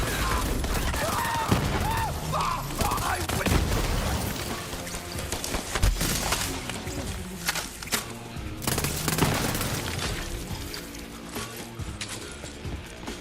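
Three-round burst gun firing in the looter shooter Borderlands 3, with repeated short volleys under a dense, busy mix of game effects and music, fairly faint and continuous.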